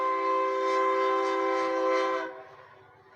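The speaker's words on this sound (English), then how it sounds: "The train is coming." A train horn blows a loud, sustained tonal blast for about two seconds before cutting off, leaving a low rumble of the passing train behind it.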